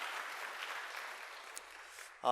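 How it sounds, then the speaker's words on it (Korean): Church congregation applauding in welcome during a Sunday service, a steady moderate wash of clapping across the hall that fades near the end as a voice begins. "우리 환영의 박수 하도록 하겠습니다"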